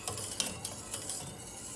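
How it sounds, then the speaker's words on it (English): A chocolate ice cream mixture with instant coffee and vanilla essence is stirred in a bowl, giving a soft, continuous swishing with a few light utensil taps, close and fairly quiet. "Now stir nicely."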